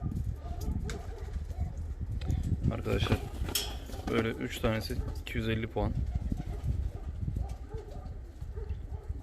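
Three Baghdadi pigeons, two blue and one white, cooing in repeated soft throaty bursts nearby, partly under someone talking.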